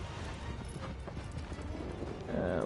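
Horse hooves clip-clopping at a gallop in the video game Shadow of the Colossus, a steady rhythmic drumming close by that stays continuous, with a faint voice speaking over it and a brighter swell near the end.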